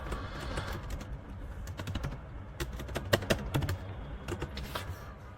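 Quick keyboard typing of a database query on a computer, bursts of close, crisp key clicks with short pauses, quiet and without talk.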